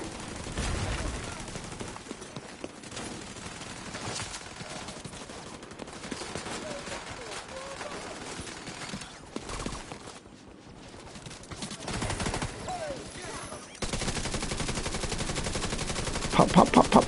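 Video game gunfire crackles in rapid bursts of automatic shots over several seconds, dense and steady, with a short quieter gap and louder sharp shots near the end.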